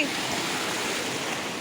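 Sea waves at Manginapalli beach wash in a continuous rushing surf, close and moderately loud over the brief span, with no clear speech.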